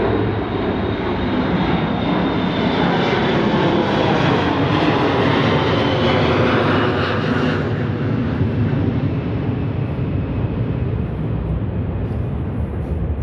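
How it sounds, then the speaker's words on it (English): A loud, steady roar of a jet airplane passing low overhead near San Diego's Lindbergh Field airport, its broad rumble filling the whole span with a slight shift in pitch midway. "oh, here comes another plane"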